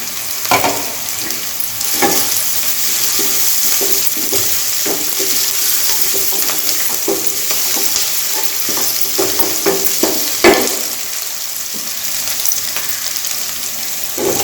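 Crushed ginger, garlic and two green chillies sizzle steadily in a hot pan for a potato and peas curry, with occasional scrapes and clinks of stirring throughout and no talking.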